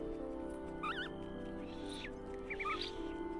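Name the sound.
person imitating a hamster noise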